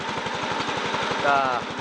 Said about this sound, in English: The Kohler, not so courageous motor